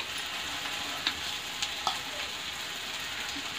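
Potato wedges deep fry in a pan of hot oil, giving a continuous bubbling hiss with occasional soft pops and crackles.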